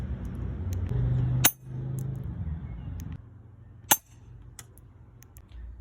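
An airsoft pistol fired at glass from point blank gives two sharp, loud cracks a few seconds apart over a low background hum.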